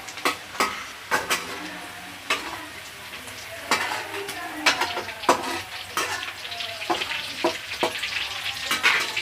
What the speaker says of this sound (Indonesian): Jengkolnya digoreng setengah matang aja ya bun, jangan terlalu kering